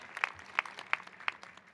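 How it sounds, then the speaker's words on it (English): A handful of faint, evenly spaced hand claps, about four distinct ones, at a student convocation welcoming the class of 2025, with no cheering audible. "come on, let's cheer. Let's clap it up."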